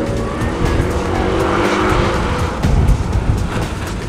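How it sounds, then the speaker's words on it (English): A Porsche 718 Cayman S runs an autocross slalom course. Its engine roars close and loud throughout, with tire squeal and skidding as the car pushes through the turns. "We all get into Porsche 718 Cayman S's and head down through the slalom course"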